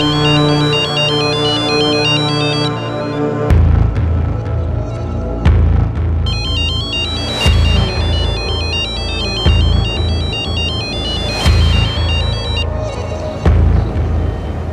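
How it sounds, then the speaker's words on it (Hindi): A loud electronic phone ringtone plays a repeating melodic pattern with heavy thumping bass beats, continuous and close for the whole stretch. "ये रे तेरा फोन है"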